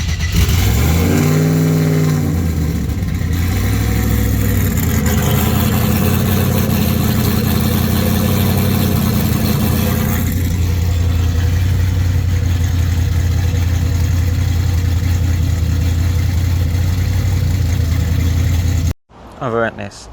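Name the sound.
LS car engine revving with exhaust leak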